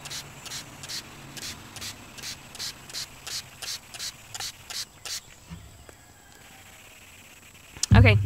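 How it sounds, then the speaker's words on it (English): A spray bottle misting water into a dermestid beetle colony enclosure, about a dozen quick, evenly spaced hissing squirts close by, followed by quiet handling noises and a louder knock at the end. "And I'm actually going to spray a little bit more."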